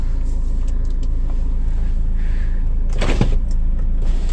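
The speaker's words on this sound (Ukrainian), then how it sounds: "Так, люк. Повільно, але поїхав." The sunroof motor of a used car being inspected in Germany hums as the roof panel slides slowly open, a steady whir inside the cabin over a constant engine idle.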